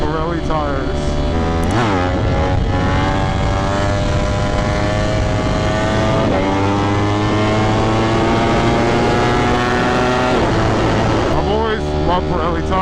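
Ducati Panigale V4 SP2 motorcycle being ridden, its engine a loud steady drone with rising and falling harmonic sweeps as it accelerates and shifts gears, wind buffeting throughout.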